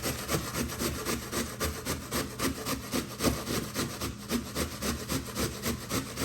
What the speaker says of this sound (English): Now I'm gonna go ahead and shred one section.